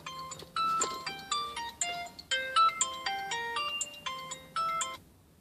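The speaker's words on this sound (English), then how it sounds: "That was my phone." A mobile phone ringtone plays alone, a bright tinkling melody of quick stepped tones repeating for several seconds, fairly loud and close before it stops.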